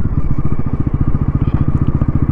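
A 2024 Bajaj Pulsar NS400Z motorcycle pulls away in first gear, its engine giving a loud, close, steady rapid thump that runs throughout without any talking.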